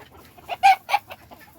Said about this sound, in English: Chilo, the little brat's been fighting with the hens instead of the roosters.